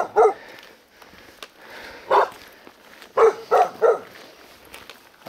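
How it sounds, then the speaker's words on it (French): A dog barking outside near a house gate, five sharp loud barks spread unevenly, one early, one in the middle and a quick cluster of three near the end, with quiet background between. "Attention au chien, oui, je crois qu'il vaut mieux parce que il n'a pas l'air commode."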